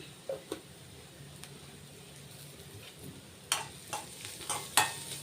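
A spoon stirs potato curry seasoned with salt and turmeric in a pan. Soft scraping and a low sizzle give way to sharper clinks and scrapes against the pan near the end, close but fairly quiet, with no speech.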